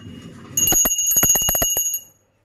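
A small hand bell rings in a rapid, bright jingling burst for about a second and a half after a faint low rumble, then stops into near silence.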